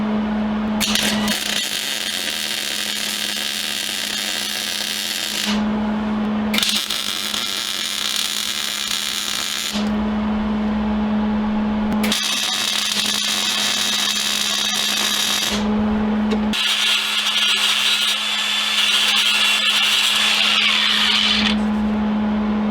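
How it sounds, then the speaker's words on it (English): An arc welder fusing a cut bolt head onto an OTK tie rod end on a Jeep Cherokee or Wrangler: several loud, crackling bursts of several seconds each, separated by short pauses with a steady electrical hum. "We're going to weld that into place."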